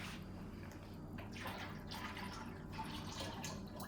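Liquid poured while making homemade lemonade from fresh lemons, a steady watery splashing and trickling that runs through the whole stretch at moderate close range, with no talking.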